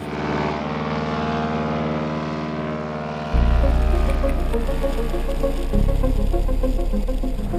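A seaplane's propeller engine drones steadily in flight, a loud continuous harmonic hum that jumps in power partway through and rises again near the end as throttle is added.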